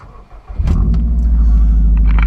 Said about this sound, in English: listen to it purr, baby, purr